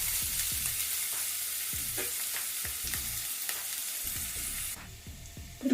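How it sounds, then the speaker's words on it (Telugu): Ginger garlic paste fries with onions in hot oil for a masala curry, giving a close, steady sizzle broken by scraping stirs, ending with a clatter and no talk. "ఇది వేసి పచ్చి వాసన పోయే వరకు వేయించుకోవాలి."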